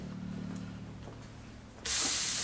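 An 8-ounce sirloin steak lands on a hot contact grill and breaks into a sudden loud, steady sizzle after a quiet moment, hissing close and continuous to the end.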